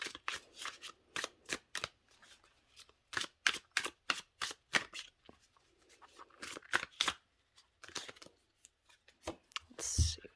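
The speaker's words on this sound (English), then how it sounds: "it shuffles really good" Oracle card deck being shuffled by hand, repeated quick riffling bursts and flicks in irregular runs, close and crisp, with brief pauses between shuffles.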